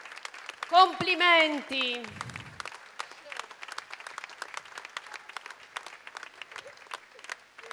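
A crowd in the open piazza of Nardò applauds at a Salento fashion gala; a voice speaks briefly at the start, then scattered, crisp claps continue in a sparse, uneven patter.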